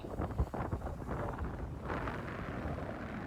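Strong seaside wind buffets the microphone with a continuous, rumbling roar that fluctuates in intensity, no voices present.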